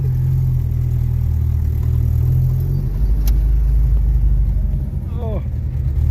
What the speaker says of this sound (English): driving my parts truck